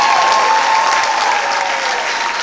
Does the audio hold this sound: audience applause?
yes